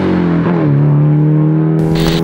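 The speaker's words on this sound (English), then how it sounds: "Car sounds really good." A real Hakosuka Datsun/Nissan Skyline with an SR20 single-turbo swap and custom exhaust idles and revs, a loud, close engine drone that dips slightly in pitch and then holds steady, with a brief burst of extra noise near the end.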